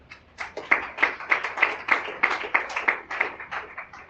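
A church congregation claps together in a steady rhythm during a Sunday morning service, with about a dozen even, fairly close hand-claps cheering for Jesus.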